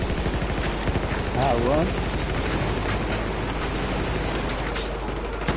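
Battlefield 4 shootout with dense, continuous gunfire and explosive rumble filling the scene, loud and close, with a shouted voice briefly cutting through the chaos.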